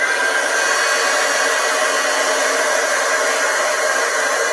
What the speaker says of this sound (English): I'm going to take my heat gun and I'm just going to use my heat gun to